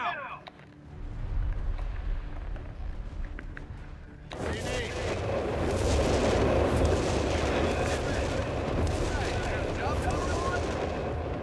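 Gunfire and artillery in the WWII strategy game Company of Heroes 3 build into a loud, continuous barrage of booms and rattling shots, preceded by quieter battle noise with in-game voices.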